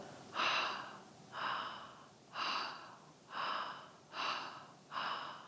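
Quick rhythmic breaths during a breathing exercise: six evenly spaced, airy inhalation-exhalation bursts roughly a second apart, close and soft, with no talking.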